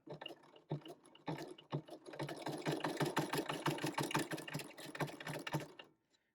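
A sewing machine stitches around a handmade gift card holder built from art printables, running in short bursts at first, then in a steady, rapid mechanical whir that stops abruptly at the end.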